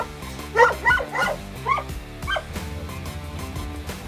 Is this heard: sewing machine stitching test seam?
no